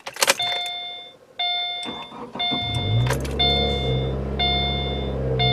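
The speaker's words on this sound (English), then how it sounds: "We're going to start up the car now and see what kind of information it's going to display." A 2017 Subaru Forester XT starting up: a series of electronic dashboard chimes and beeps, then the engine cranks and settles into a steady low idle under continued chiming tones.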